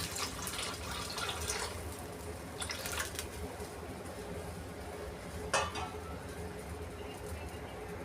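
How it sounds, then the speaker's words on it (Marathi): Water poured into a cooking pot while preparing jowar-flour shengole dumplings, a steady close rushing splash throughout with a brief sharper clink or slosh near the end. "अजून थोडंसं पाणी टाकणार आहे मी यामध्ये"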